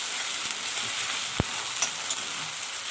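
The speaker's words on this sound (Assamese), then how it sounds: "1 মিনিট ভাজি ল'ম মই।" Garlic, ginger and chili paste fry in hot oil in a pan, a steady close sizzle with a few light taps and stirring scrapes.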